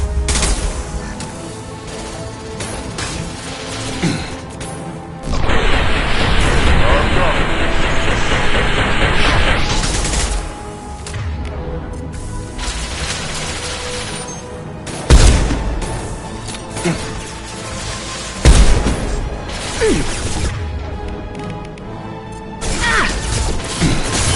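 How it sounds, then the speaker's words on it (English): Heavy gunfire and explosions in the video game Mass Effect 2: dense, loud bursts of shooting with crashing blasts and booms running almost without a break. "Taking heavy fire!"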